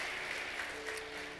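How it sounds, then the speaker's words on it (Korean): A church congregation at a Sunday afternoon worship service claps together in welcome, steady applause filling the hall at a moderate, somewhat distant level with no voices over it. "박수하겠습니다."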